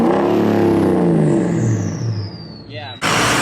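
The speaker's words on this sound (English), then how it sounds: "Let's go ahead and drive it down let's go ahead and drive it in our yard and just listen to that turbo sing." A diesel truck, set up for rolling coal, revs hard in a yard, its engine roar rising with a sharp whistling turbo whine that climbs and falls before a burst of loud broadband rush; loud and close.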